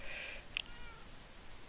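A cat gives one short, high meow near the middle, fairly faint and set against low background hiss, with a fainter tonal trace just before it.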